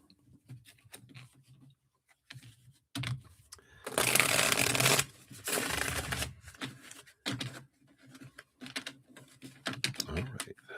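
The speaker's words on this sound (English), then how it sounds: "That was a fun shuffle." Reading cards being shuffled by hand during a live card-reading session: quiet taps and handling clicks, then two loud riffling bursts in the middle, then more light card handling.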